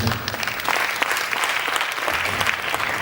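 A church congregation at a revival crusade in Lomé, Togo, breaks into loud, sustained applause: dense, steady clapping that fills the room without letup.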